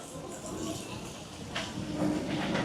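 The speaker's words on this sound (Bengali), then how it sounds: "দেখো ট্রেন আসছে একটা" A train approaches along a busy railway line near Kolkata station, a broad rumbling hiss that swells gradually and grows louder toward the end, heard from trackside alongside faint voices.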